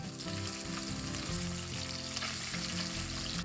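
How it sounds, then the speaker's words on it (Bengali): Rohu fish pieces frying in a pan, a dense steady sizzle of hot oil filling the whole stretch with soft crackles and no voices. "এখন আমি মাছটা ভেজে নিচ্ছি খুব পাতলা করেই"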